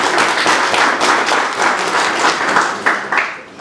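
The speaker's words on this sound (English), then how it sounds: "Can we give him another round of applause?" Councillors and guests at a Bulawayo city council special meeting for electing the mayor and deputy mayor give a round of applause, a sustained, fairly loud patter of many hands that thins slightly with a few sharper claps near the end.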